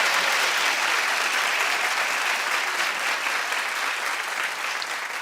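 A television talk show studio audience claps loudly and continuously, a dense steady roar of many hands that holds at full strength throughout with no voices on top.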